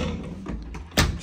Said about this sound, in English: shut this door to my room